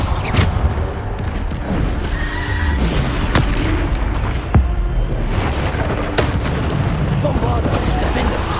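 Bombarda spell blasts go off in Hogwarts Legacy, with dense, booming impacts and crashes layered over continuous game effects and music, plus a sharp hit near the middle, while a voice talks over the action.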